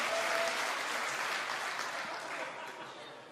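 Applause from a live crowd at a StarCraft 2 WCS Premier League tournament semifinal, a dense steady clapping wash that fades slightly toward the end, with no voices over it.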